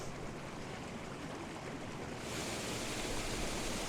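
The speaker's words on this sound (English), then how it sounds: "So there you have the Brontë Waterfall, and it's got a decent flow to it today" Brontë Waterfall in Yorkshire flowing strongly after heavy winter rain, a steady close rush of falling water that swells louder partway through, with no talking.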